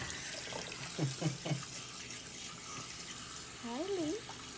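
Water runs steadily from a tap during bath time at a soft, low level, with a voice speaking over the flow and a playful high warbling vocal sound near the end.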